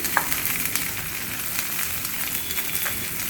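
Spices with green chilli, turmeric and salt roasting in a pan for Mathura halwai-style bedmi puri potato curry, a steady close sizzle with a few scraping stirs throughout.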